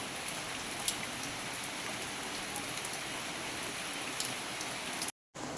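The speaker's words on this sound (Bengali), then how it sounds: "দেখো কি জোর বৃষ্টিটা হচ্ছে" Heavy rain pours down in a dense, even hiss that barely changes throughout, with a few faint drip ticks on top and a brief silent gap near the end.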